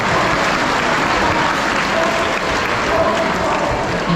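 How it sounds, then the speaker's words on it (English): An audience claps for a sea lion at a safari park show, a dense, steady round of applause sustained loudly from start to finish. "So give Arthur a nice big round of applause"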